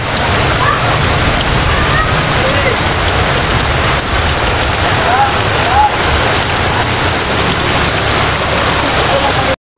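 Heavy rain pours steadily onto surfaces and floodwater at midnight, a dense, loud, unbroken roar with faint sloshing and some indistinct voices underneath.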